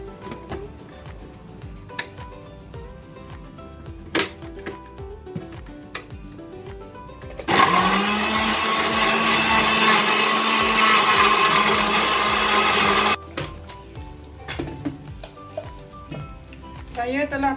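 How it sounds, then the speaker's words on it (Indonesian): A kitchen blender grinds spice ingredients for a Kelantan dried fish curry, running loud and steady for about five seconds midway, with a voice talking before and after. "Kita kisar hancur"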